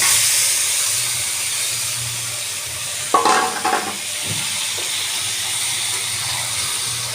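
Marinated mutton hits a pan of fried onions, a sudden loud sizzling burst that hisses briefly and fades back into a quiet steady background hiss.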